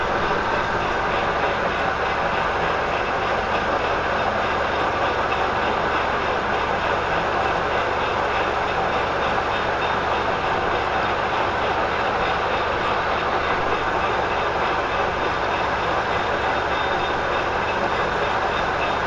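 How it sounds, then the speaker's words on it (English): Steady drilling of a center hole on a metal lathe, the bit fed from the tailstock into the workpiece; a loud, continuous whirring grind that holds unbroken for the whole stretch with no voices. "We got our center hole drilled there"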